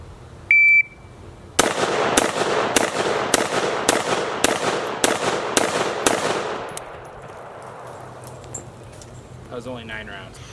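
A Modern Materiel MODMAT-16 rifle fires nine evenly spaced sharp shots at a steady pace during a 10-yard B8 drill, close and loud, after a brief timer beep. The shots end and the reverberation fades.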